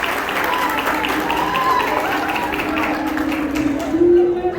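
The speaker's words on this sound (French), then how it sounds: "Applaudissez." An audience at a university nursing graduation ceremony applauds, a steady wash of clapping running under a voice that speaks over it.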